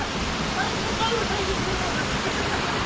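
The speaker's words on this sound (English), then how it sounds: "we've hiked to the top of the waterfall" A waterfall in Wales roars steadily as a dense, constant wash of rushing water, close and loud throughout.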